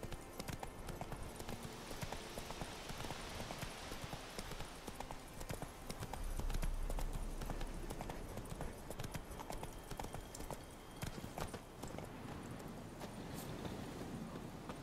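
The horse Roach galloping in The Witcher 3: Wild Hunt, a rapid, continuous clip-clop of hooves on the ground, steady and fairly quiet under some background game ambience.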